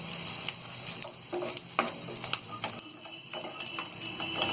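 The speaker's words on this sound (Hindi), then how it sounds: "अब इसी में हम ये कटी हुई हरी मिर्च डाल देंगे और इसे भी हम हल्का सा फ्राई कर लेंगे।" Chopped green chillies fry with onions in a pan over medium heat, a steady close sizzle broken by repeated scraping stirs and light clatter of the spoon, with no voices.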